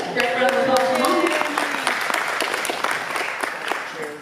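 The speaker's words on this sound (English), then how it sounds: "Great round of applause for Mommy." A round of applause from an expo audience for a mother, close and loud dense clapping from many hands across the whole stretch, with a few voices mixed in and a slight fade at the end.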